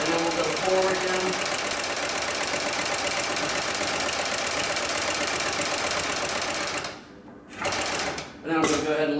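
Straight-stitch sewing machine for strapping running in reverse, a fast, even mechanical clatter that stops abruptly, pauses briefly, then starts again for a short burst.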